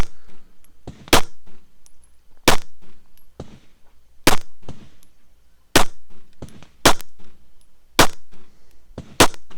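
Pistol shots at a shooting match fire in a steady series of eight loud, sharp cracks spaced about one to two seconds apart, with no talking between them.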